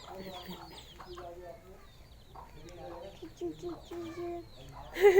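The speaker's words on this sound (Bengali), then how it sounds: "মুরগি গাছে" Desi chickens, some up in a tree, cluck in short bursts among other bird sounds, with people talking in the background and a louder squawk near the end.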